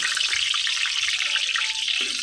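Chopped garlic frying in hot cooking oil, a steady, loud, bright crackling sizzle throughout with no talk.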